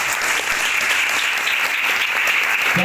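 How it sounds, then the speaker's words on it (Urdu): A church congregation clapping loudly and continuously together during a sermon, a dense close wash of applause with no speech over it. "تالیاں بجائیں یسوع کو۔"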